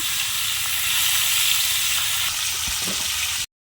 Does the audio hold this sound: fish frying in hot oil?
yes